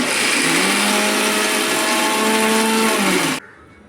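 A mixer grinder whirs steadily as it grinds soaked chana dal into a fine paste, a loud continuous motor drone with a rising pitch that cuts off abruptly near the end, leaving near silence.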